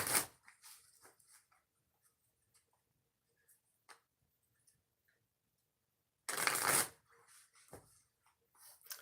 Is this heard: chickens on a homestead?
no